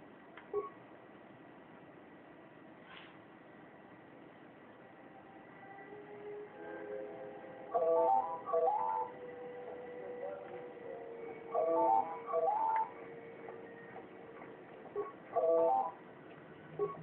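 An incoming call signal in the Star Wars KOTOR II video game sounds as short bursts of warbling electronic beeps, repeated several times at intervals over a low, quiet ambient hum.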